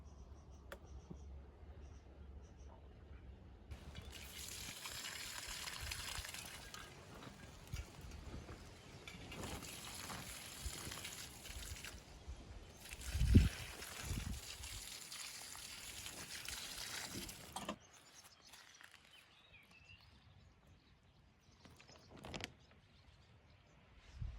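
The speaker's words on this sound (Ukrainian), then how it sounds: "10 літрів води, воду набираю з бочки, вода прогріта, 25 мл добрива." Water drawn from a barrel for a strawberry fertilizer solution: a soft trickle and pour that comes in bursts, with quiet handling noises and gaps between.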